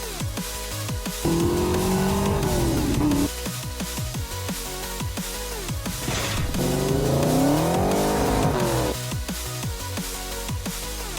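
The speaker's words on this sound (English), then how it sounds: "We're gonna get some exhaust sounds from this turbo real quick" Turbocharged Ford Fox Body Mustang with aftermarket turbo, exhaust revving hard in repeated loud bursts that rise and fall, close to the microphone with no talking.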